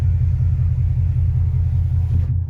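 A 2015 Ford Mustang GT Premium 50th Anniversary convertible idles with its engine running, a deep steady rumbling burble heard close and alone, cutting off abruptly at the end.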